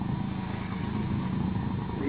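Small Chinese pit bike engine running steadily for the whole stretch, a buzzy drone at moderate distance with no distinct revs or gear changes.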